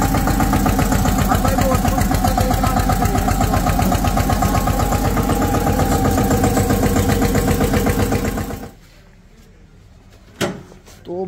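A tractor engine runs loud and close in a steady, rhythmic chug for about eight seconds, then cuts off abruptly, leaving a quiet background with one short knock near the end.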